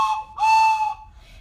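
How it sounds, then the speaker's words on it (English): A toy train whistle sounds in two short bright toots, the second longer and louder, with a faint trailing breath after, alone and close. "some fun whistles like the train whistle."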